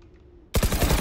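Gunfire from the video game Valorant breaks out after half a second of quiet: a loud, rapid burst of closely spaced shots continuing to the end.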